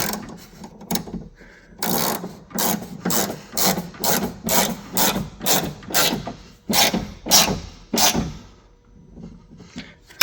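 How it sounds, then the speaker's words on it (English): Hand tool driving a T30 Torx screw on a Porsche 996/986 window regulator, heard as a close, steady run of rhythmic ratcheting clicks and rasps, about a dozen strokes, with no talking. "So tighten down our little T30 Torx screw."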